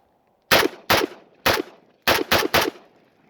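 Six sharp, loud gunshots from a Century Arms VSKA AK-47 rifle, fired close by as irregular single shots and then a quick burst of three, each with a short ringing tail and no talk.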